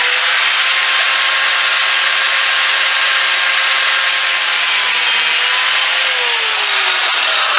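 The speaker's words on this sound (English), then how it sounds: "I'm going to take a right angle grinder." Loud, continuous high-pitched whine of a right angle grinder cutting off a metal part for an axle vent, steady and close throughout with a slight pitch drop near the end.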